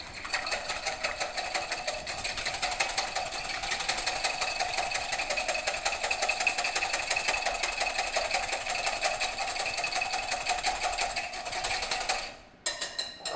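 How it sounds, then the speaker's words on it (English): A wire whisk beats egg white for thumbprint cookies in a bowl, making a fast, steady rattling and clicking that runs for about twelve seconds before stopping abruptly, with no talking. "I'm just going to whisk this until it's nice and frothy to break it up."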